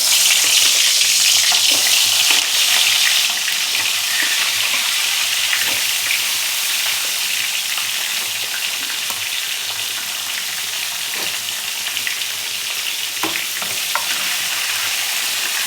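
Brinjals fry in hot oil in a kadhai, a loud, steady broadband sizzle that holds throughout, with faint scraping and stirring clicks scattered over it and no talking.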